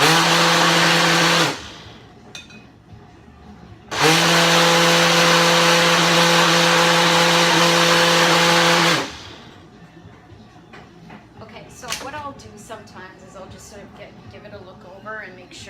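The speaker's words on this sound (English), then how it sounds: "I might give it a few more pulses just to make sure it's blended" A kitchen blender runs in two loud bursts, one about 1.5 seconds and a longer one of about 5 seconds, pulsing a thick mixture, with quiet gaps and light clatter between them.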